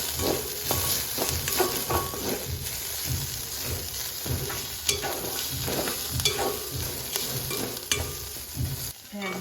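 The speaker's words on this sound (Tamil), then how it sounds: "நல்லா வதங்கி கொண்டு வருது" Ginger and onion sautéing in a pan for beef curry, a close, steady sizzle and crackle of frying with repeated scraping from the stirring spoon all the way through.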